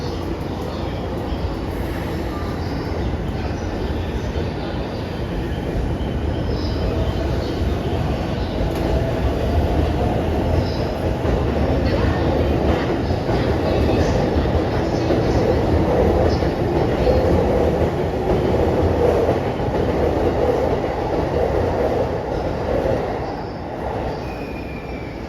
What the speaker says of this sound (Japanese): 電車発車をいたします